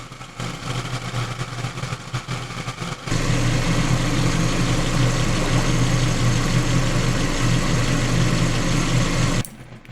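A Hyundai i30 with the G4 engine idles steadily while warming up, a constant close mechanical hum that gets louder and fuller after a few seconds, then cuts off abruptly near the end.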